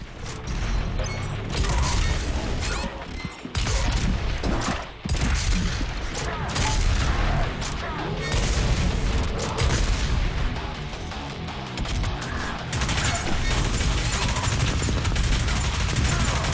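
Heavy blasts from the super shotgun in Doom Eternal keep firing through a loud, continuous barrage of combat noise, with mechanical clanks and booms filling the mix. A few brief pauses break up the gunfire.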